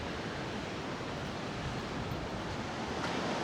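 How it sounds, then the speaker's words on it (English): Sea waves at Cromer seaside break in a steady, loud, continuous wash of surf, a dense broadband roar with no voices, swelling slightly toward the end. "listening to the waves. You always forget how loud the sea is until you're at the seaside."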